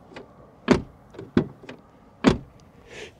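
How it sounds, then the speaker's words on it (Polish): A 2002 Ford Mondeo ST220 3.0 V6 door is gently closed and opened, giving a few soft, close mechanical thuds and clicks spaced apart in an otherwise quiet setting. "drzwi delikatnie się zamykają, otwierają"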